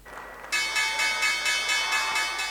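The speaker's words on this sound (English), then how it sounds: "The opening bell at the New York Stock Exchange." The opening bell at the New York Stock Exchange rings loudly in a rapid, continuous metallic peal with regular pulses, cutting in abruptly after a brief murmur of room noise.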